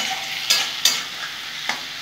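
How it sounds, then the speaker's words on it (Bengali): Potatoes, onion and green chillies frying in a pan, a steady soft sizzle with a few sharp scraping stirs near the start and one more later, no talk. "আমি একটু ঢাকা দিয়ে দিয়ে ভেজে নেব, তাহলে আমার আলুটা ভাজা হয়ে যাবে লাল লাল করে"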